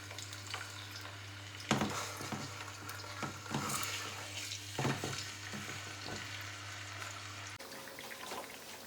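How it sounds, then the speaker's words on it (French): Fish frying in hot vegetable oil in a pan, giving a steady close sizzle and crackle with occasional spits and stirring knocks, under a faint low hum. "Il faut laisser l'huile chauffer avant de frire le poisson."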